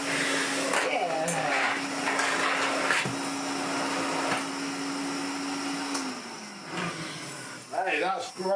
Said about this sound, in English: another Hoover Constellation reset to brand new